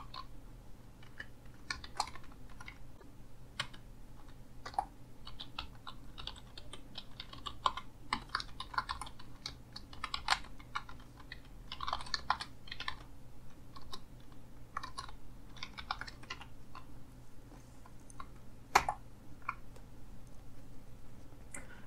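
Code being typed on a computer keyboard while setting up QuantLib for Python: a quick, irregular run of close, crisp key clicks with brief pauses, steady and fairly quiet, with no talking.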